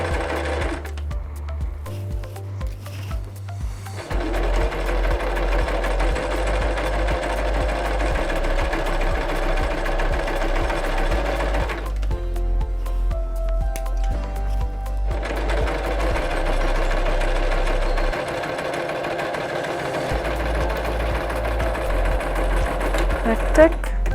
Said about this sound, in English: Remember to back tack, and you stitch your 2 centimeter seam allowance.